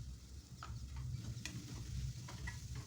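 Beetroot with garam masala sautéing in a pan, a steady low sizzle with soft scraping stirs of a spatula recurring every half second or so, moderately quiet and with no voices.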